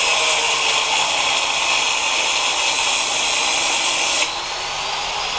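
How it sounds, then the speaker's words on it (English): A power grinder working metal while fabricating an improvised ice auger for an impact gun, a loud steady high whine with a broadband hiss that drops off sharply near the end. "when doing some grinding like that, make sure you have an eye goggles, because there's a lot of sparks"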